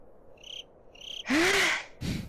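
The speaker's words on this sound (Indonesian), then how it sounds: "jangkrik." Minecraft crickets from a resource pack give two short, high chirps, then a louder, brighter burst and a final low noisy swell, all faint and close with no talk.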